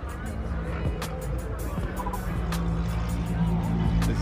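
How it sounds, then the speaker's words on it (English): Corvette C8-R race cars run at Canadian Tire Motorsports Park, engines droning and passing at a distance beneath nearby chatter and crowd babble, with a steady rumble throughout. "As you can see, there's some race cars out on the track right now."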